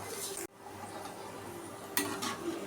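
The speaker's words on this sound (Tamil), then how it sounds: "ஒரு 6 பல் பூண்டு தட்டி வச்சுருக்கிறேன், இதையும் நல்லா வறுத்து எடுத்துக்கலாம்" Crushed garlic cloves fry in hot oil in a pan, a soft steady sizzle broken by a sudden dip and then a couple of sharp bursts of crackle near the end, with no voices.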